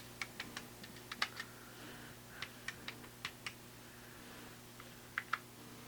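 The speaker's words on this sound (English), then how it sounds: "Keyboard, I think, needs a little cleaning." Someone types on the chiclet keyboard of a TRS-80 Color Computer Model 1 that needs cleaning, producing soft, close key clicks in irregular bursts over a steady electrical hum, with no talking.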